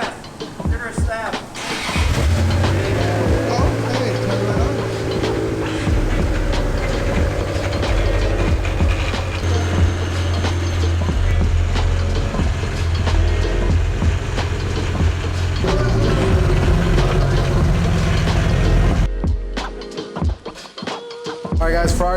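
Liberty Walk Ferrari engine running and revving in a workshop, a loud close roar that holds steady before cutting off near the end, with people talking over it.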